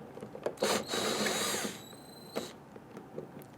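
A power tool whirs briefly to loosen a 10mm bolt on a 1994-2004 Ford Mustang during fuel pump tank seal work, one burst of about a second, close, followed by faint clicks and quiet handling.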